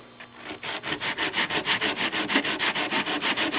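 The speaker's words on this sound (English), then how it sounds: "taking a piece of 60 grit sandpaper and just taking the bottom of the rock" The bottom of a model rock is rubbed on 60 grit sandpaper in steady, rapid back-and-forth strokes, about six per second, close and alone.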